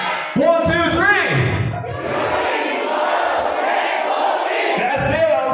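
A crowd at a launch event shouts together loudly on cue, a burst of many voices yelling the name of the Cordillera Administrative Region, after a lone voice starts the count, then trailing into mixed crowd noise.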